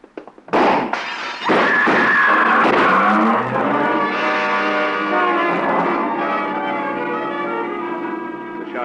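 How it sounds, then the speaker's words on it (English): Gunshots fired from a double-parked car in a 1951 radio crime drama: a loud sharp burst and crashing impacts near the start, followed by a long sustained dramatic musical sting that fades slowly. "The shots came from a car, double parked."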